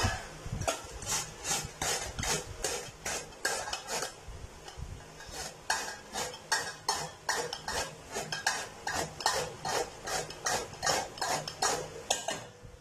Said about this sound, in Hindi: और अब लेंगे हम ये कद्दूकस और इनको जो है वो कद्दूकस कर लेंगे